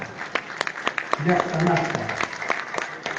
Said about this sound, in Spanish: Yo quiero pedir por favor fuerte las palmas una vez más para el colectivo